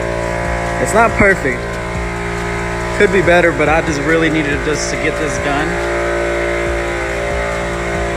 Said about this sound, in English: Sorry for the background noise, but I got the air compressor going.